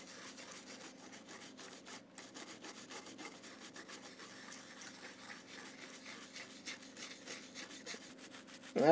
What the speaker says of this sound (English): let's see if I can clean up some of this corrosion here.